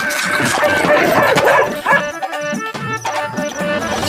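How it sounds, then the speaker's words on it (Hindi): A dog barks and yelps excitedly amid a loud, busy mix of music and commotion, the barks coming in quick, agitated bursts. "तब तक सेठ का कुत्ता बिरजू का पिछवाड़ा नोच लेता है"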